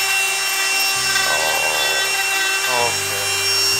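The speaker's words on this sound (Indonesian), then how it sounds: "Pakai ini, pakai yang gerinda ya." A Makita angle grinder works a bonsai base, its steady high whine running loud throughout with a shifting, rubbing grind as the disc bites the wood.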